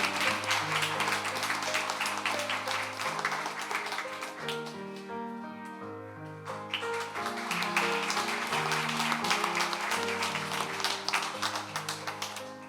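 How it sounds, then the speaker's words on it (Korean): A church congregation claps during a Sunday service, sustained broadband applause over organ or keyboard chords, easing briefly midway before rising again and continuing steadily. "박수해 주시길 바랍니다"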